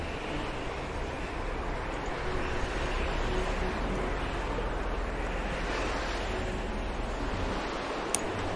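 Steady wash of sea waves and wind during sailing in the strategy game Strategic Mind, a continuous broad roar at moderate loudness with no talking.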